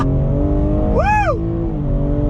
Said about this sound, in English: We're in this 2021 BMW M3 Competition, second gear, on throttle.